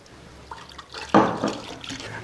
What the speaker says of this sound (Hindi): ये प्योर मिल्क हम इसके अंदर डाल रहे हैं।